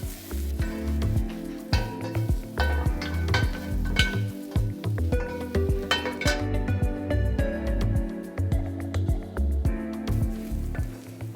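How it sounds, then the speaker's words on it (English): Frozen steak tips sizzling in a pan over medium-high heat, stirred often, with loud crackling frying and repeated scrapes and clinks of a utensil against the pan throughout; no talking. "I'm cooking them on medium-high heat, stirring frequently, hoping to see some nice color."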